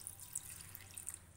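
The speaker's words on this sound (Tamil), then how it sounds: "இந்த அளவுக்கு தண்ணி ஊற்றி அடுப்பில் வச்சிடலாம்" Water poured into a saucepan over jaggery in a kitchen, a brief steady splashing trickle with a low background rumble and no talk.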